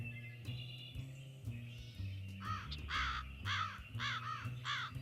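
A crow nesting atop an abandoned silo caws in a run of about five harsh calls, loud and close, from midway through over a steady low background drone.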